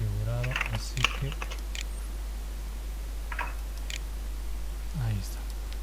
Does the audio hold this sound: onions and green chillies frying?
no